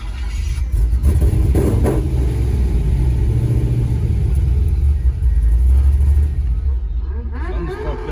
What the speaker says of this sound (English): he was hitting the rev limiter for like a minute straight.